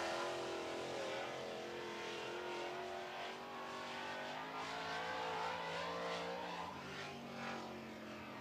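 Modified race cars circle the track during heat races, engines droning loud and steady with rising and falling revs as the pack passes, the roar continuous throughout.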